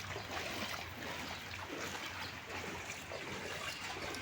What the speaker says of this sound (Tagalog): Yan na, may tubig na oh.